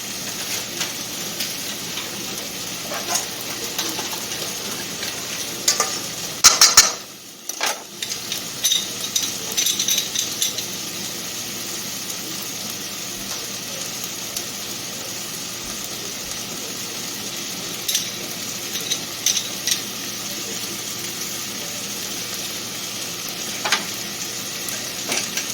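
Three small garlic cloves sizzle steadily in a hot pan for a long stretch, a loud continuous frying hiss broken by a brief burst of stirring scrapes and a short lull partway through.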